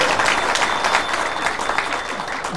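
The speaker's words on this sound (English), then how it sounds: "Big round of applause for healthy kids." An audience claps in a steady, dense round of applause that carries on evenly and fairly loud throughout, with no talk over it.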